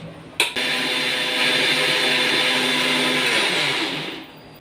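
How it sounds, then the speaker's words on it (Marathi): A mixer grinder grinding chaat masala spice powder starts with a click and whirs loudly and steadily for several seconds, then winds down and stops. "आपला हा चाट मसाला मिक्सरला असा फिरवून झालेला आहे"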